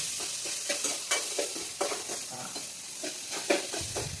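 Onions frying in a pan for uppittu, stirred with a spoon: a continuous moderate sizzle punctuated by regular scraping strokes and light knocks, close and without voices.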